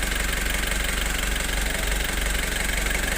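A Foton Traveller van's engine runs at a steady idle, loud and close, with a continuous low rumble and a faint knocking pulse throughout.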